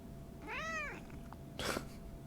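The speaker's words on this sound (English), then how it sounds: "Sky, I don't care if you sit here, just don't meow." A single clear cat meow rises and falls indoors, followed by a short soft rustle, fairly close and alone without talking.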